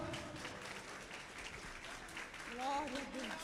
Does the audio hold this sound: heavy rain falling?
no